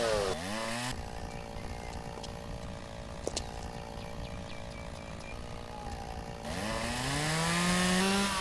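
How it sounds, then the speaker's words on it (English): A chainsaw in the video game Lumberjack's Dynasty revs up, then drones steadily while cutting through shrubs, its pitch rising and falling at the start and again as it winds up loudly at the end. "let's take our chainsaw out."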